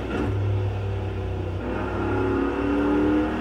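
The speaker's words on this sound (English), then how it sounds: "You can hear our turbo kicking in" Racing video game car in a simulator cockpit with a turbocharged engine, its engine drone rising steadily as the turbo spools up, a continuous loud mid-low rumble with climbing whine over about three seconds.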